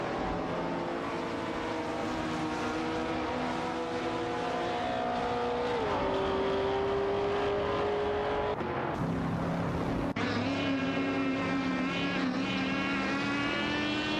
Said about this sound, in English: Declada Snake in the Ferrari 275 GT2BC and Groningen in the Shelby Jet T350 are fiercely contesting the 13th position.